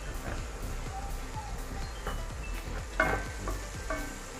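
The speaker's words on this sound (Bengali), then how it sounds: "এবার চিংড়ি আর ডিমের মিশ্রণটা একসাথে ভালোভাবে মিশিয়ে আরো কিছুক্ষণ" A shrimp and egg mixture sizzles in a pan for nasi goreng, with a steady close frying hiss and repeated soft scraping strokes as it is stirred.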